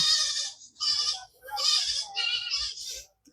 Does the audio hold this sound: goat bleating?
yes